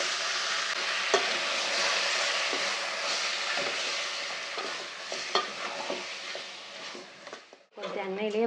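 Chicken with chicken masala powder and red chilli powder being stirred in a frying pan for a chicken kulambu, a steady close sizzle with scraping spoon strokes and a voice speaking over it, briefly breaking off near the end.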